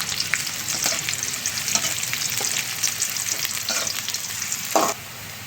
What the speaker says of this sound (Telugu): ఆయిల్ వేడెక్కాక బ్రౌన్ కలర్ వచ్చేదాకా ఫ్రై చేసుకొని